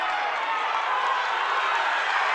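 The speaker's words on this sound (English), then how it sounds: "The crowd are going crazy" A crowd at a lightweight title fight at the KFN7 event roars steadily throughout, a dense and sustained din of cheering without any let-up.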